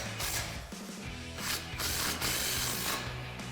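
A 12mm socket and ratchet tighten bolts on a 2005-2010 Mustang front strut, giving rapid clicking pawl bursts close up over a quiet hissing background, with no talking.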